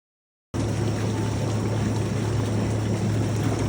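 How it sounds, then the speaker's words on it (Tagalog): Water pouring into a bath in Japan, a steady close rushing stream that starts abruptly after a brief silence and continues evenly without talk. "nilagyan na nga ni Daddy ng tubig ang aming pagpapaliguan"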